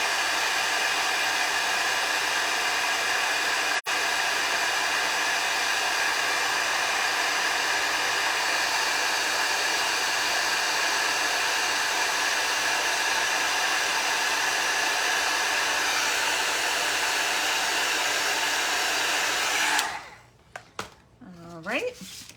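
An embossing heat tool blows steadily over stamped ink on a card, a loud, even hiss held for about twenty seconds before it cuts off and faint handling noises follow.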